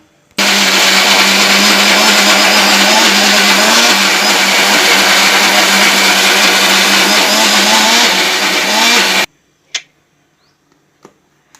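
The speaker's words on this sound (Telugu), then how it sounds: "వేసుకొని మిక్సీలో మెత్తగా గ్రైండ్ చేసుకుందాం" An electric mixer grinder grinds bottle gourd chutney with ginger, garlic and rock salt, a loud steady whirring drone for about nine seconds that stops abruptly, followed by a few faint clicks.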